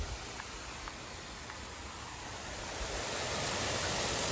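K-Rain Super Pro rotor sprinkler spraying water across a residential yard: a steady, close, broadband hiss of spray that swells slightly louder toward the end, with no talk.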